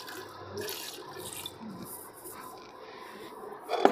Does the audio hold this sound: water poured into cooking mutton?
yes